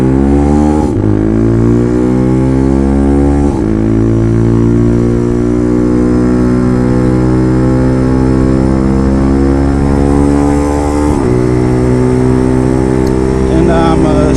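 Bashan Motomax 250 motorcycle engine running loud and steady while riding, with clear pitch drops at each clutchless gear shift and rising revs between them, dense harmonic drone throughout.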